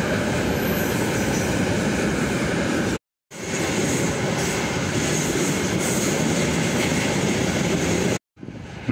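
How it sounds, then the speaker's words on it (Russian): A long train pulls out of Mamlyutka railway station in northern Kazakhstan, producing a continuous loud rolling rumble with wheel clatter and faint squeal. The sound cuts out twice briefly, and no one speaks. "Еще один поезд пошел."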